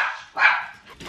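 A pet dog gives a single sharp, loud bark close by, preceded by a fading whine-like trail and followed by quiet room noise.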